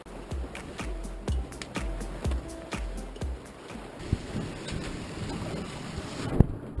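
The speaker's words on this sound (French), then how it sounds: "on a plus de 30 nœuds de vent" Strong wind of over 30 knots buffets a Mini 579 sailboat at sea, a steady roar of gusts and rushing water with rhythmic thumps of the hull or rigging, fairly close and with no talking.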